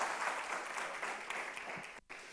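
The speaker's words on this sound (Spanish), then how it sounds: "Vamos, dele un aplauso fuerte al Señor." A church congregation at a Sunday service claps steadily together, fairly quiet and even, with a brief dip near the end before the clapping resumes.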